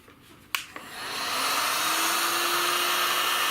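Heat blower warming thick vinyl wrap film on a Traxxas X-Maxx RC body shell: two sharp clicks, then a loud rushing blower that ramps up and holds steady and close.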